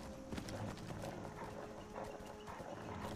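A horse's hooves pound at a gallop in Skyrim, a faint, muffled and steady patter under a low background hum, heard alone without talk.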